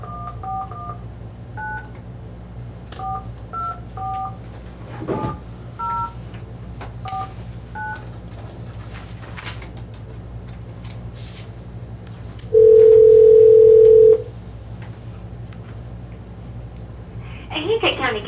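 A telephone being dialed to place a call, with a quick series of touch-tone keypad beeps, followed by a long steady tone and then a voice answering near the end, over a low background hum.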